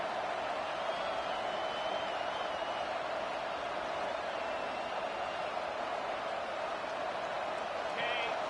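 A football stadium crowd roaring in a steady, dense wash of noise that holds throughout, with a voice talking faintly underneath.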